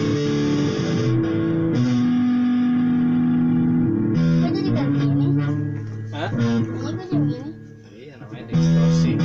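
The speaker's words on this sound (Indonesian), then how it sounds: "Kasih efek distorsi bunyinya jadi gitu." A heavily distorted, effects-processed tone, buzzy and sustained with shifting pitch and reverb-like tails, loud throughout with a brief dip near the end.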